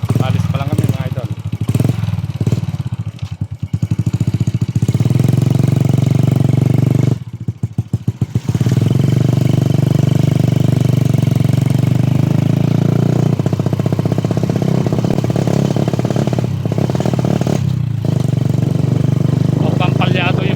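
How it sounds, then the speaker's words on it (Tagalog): A motorcycle engine left unused for a long time runs loud and close, idling roughly with uneven sputters and stumbles, a brief dropout midway, and someone talking over it. "Mukhang palyado yung motor natin mga idol sa tagal na hindi ginamit."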